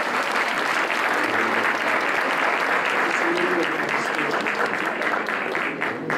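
Sustained audience applause at a World AIDS Day event at Ankara City Hospital, loud and dense as a band is welcomed to the stage, steady throughout and thinning slightly at the very end.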